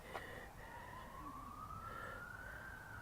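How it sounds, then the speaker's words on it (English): A siren wails faintly in the distance with a slow rising tone over a quiet outdoor background in Government Gardens, Rotorua, New Zealand. "I can hear sirens in the distance."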